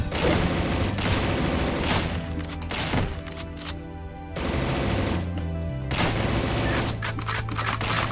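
Enemies firing rapid volleys in the action roguelike game Dungreed, dense bursts of gunfire over a steady game music bed, with a short lull near the middle before the shooting resumes.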